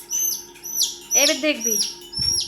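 Repeated high dove calls sound at a steady rhythm, briefly overlapped by a person speaking a few words in the middle.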